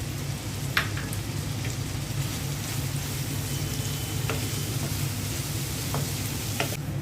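Shrimp frying in a pan with salt and coriander leaves makes a continuous, moderate sizzle, broken by a few sharp clicks and taps from stirring, with no talking.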